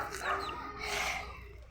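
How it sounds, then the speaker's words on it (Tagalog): Chickens cluck close by in short bursts of clucks, with faint background noise and no clear speech. "Itong mga tropa nating manok."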